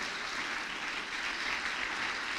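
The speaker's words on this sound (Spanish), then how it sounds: "Dale el aplauso al Dios de los vivos." A church congregation applauds during a sermon, a dense, even wash of many hands clapping held steady for a couple of seconds.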